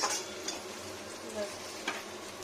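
Food frying in a pan with a steady sizzle at low level, broken by a few brief stirring scrapes and taps, with no talk.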